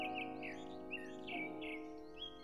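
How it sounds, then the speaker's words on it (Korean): Birds chirp and tweet in quick repeated calls at a forest park on Wolasan, Jinju, over a steady tonal background hum, the chirps clear and fairly close. "새소리도 들리네요"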